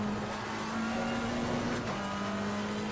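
A McLaren 720S race car engine in Assetto Corsa Competizione at Imola holds a loud, steady high drone through the whole stretch, its pitch nearly constant with a slight dip near the end, and no voices over it.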